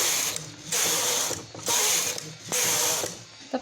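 A punch card knitting machine carriage is pushed back and forth across rows, each pass a loud, close clattering mechanical rattle lasting about a second, three passes with brief pauses between.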